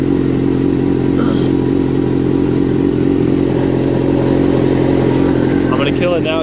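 A low-mileage 2005 Suzuki GSXR750 engine idles steadily and close by, a continuous mechanical drone with light clatter throughout, while someone talks over it.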